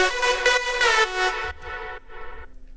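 Powerful electronic drop carried by a thick supersaw lead synth made in Serum, loud sustained chords for about a second and a half, then softer stabs over a low bass pulse; no voices.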